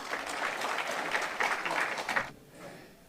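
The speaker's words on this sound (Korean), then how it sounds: "박수 부탁드립니다." Applause from an audience at a civic ceremony in Busan welcoming a speaker, dense clapping for about two seconds that then fades quickly into a quiet room.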